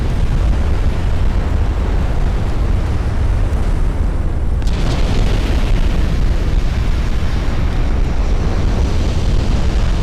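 Warship turrets blowing apart in the naval battle game Ultimate Admiral: Dreadnoughts, an 1890s U.S. Navy campaign: a loud, steady roar of blast and rumble that swells with a sharp crack about midway through.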